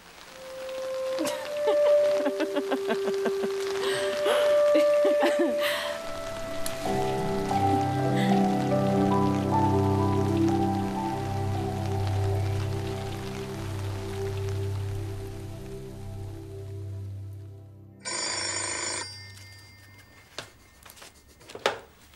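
Rain falls steadily as a continuous patter, with tonal music over it and a brief louder burst near the end, heard without talk.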